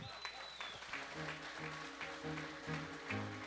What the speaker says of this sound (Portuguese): salva de palmas para o nosso amigo que está na hora